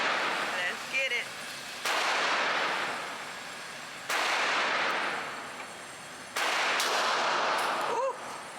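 Revolver shots fired at an indoor shooting range, three loud sharp blasts spaced roughly two seconds apart, each trailing off in a long reverberant decay, with a faint brief voice between shots.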